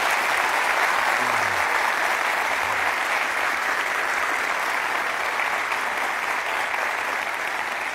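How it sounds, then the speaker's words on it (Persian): Sustained, loud applause from an audience cheering a national polo team, an even wash of clapping that holds steady throughout without talk. "تشویقشون کنید."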